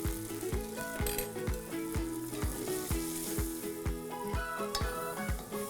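Onion gravy with coriander powder sizzles and fries in a kadhai, a steady loud crackle with a regular scraping stir of the spatula repeating about twice a second.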